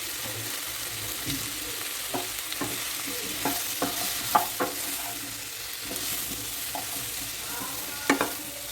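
Vegetables fry in a pan while being stirred, a soft constant sizzle broken by scattered spatula scrapes and a few sharper clacks, close and fairly quiet with no talking.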